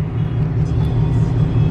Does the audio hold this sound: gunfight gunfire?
no